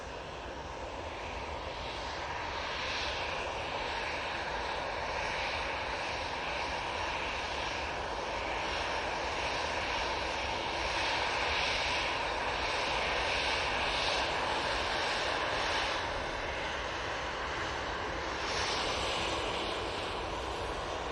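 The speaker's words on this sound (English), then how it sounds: "But do have the EasyJet coming on now." An EasyJet airliner at Manchester Airport, heard as a sustained broadband engine roar that swells and holds steady for about twenty seconds at a moderate distance, with no talking.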